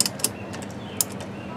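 A 3/4 drive wrench tightening a Camco X-chock wheel stabilizer between RV tires, giving a few quick, crisp ratcheting clicks up close over a low background hum.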